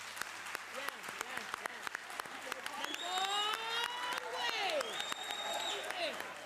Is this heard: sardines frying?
no